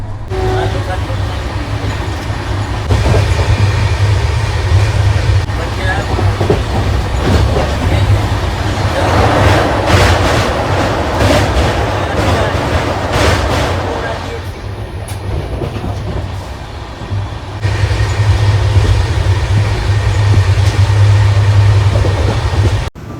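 The Madhya Pradesh Sampark Kranti Express runs along the tracks, a loud, continuous rumble with rhythmic clickety-clack of wheels heard from inside a coach, easing briefly before picking up again.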